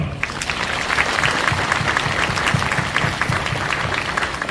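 A large church congregation claps steadily and loudly at a priest's ordination, a dense, continuous wave of applause that keeps going without pause.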